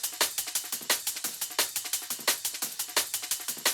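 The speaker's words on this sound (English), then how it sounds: "All the breaks together, it sounds like this." Layered Supreme and Amen drum breaks play together in a liquid drum and bass track, a busy, steady pattern of crisp snares, ghost notes and bright cymbal hits with no voice over it.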